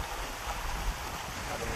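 Heavy rain pouring down in a steady, dense wash, close and continuous, with no voices.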